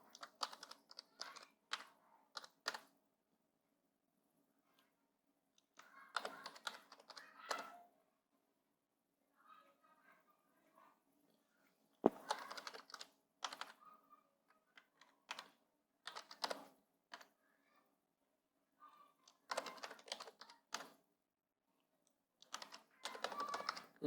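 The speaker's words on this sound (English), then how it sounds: "But for this practical I'm typing directly." Typing on a computer keyboard while entering data into a spreadsheet, quiet close key clicks in short bursts separated by pauses, with one sharper key strike midway.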